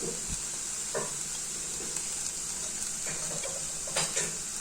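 Onion and garlic fry in a pan with a soft, steady sizzle, broken by a few faint clicks and scrapes.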